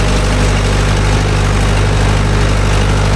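A Mahindra tractor engine runs at a steady idle, a loud, close, continuous low diesel drone with constant vibration and no talk.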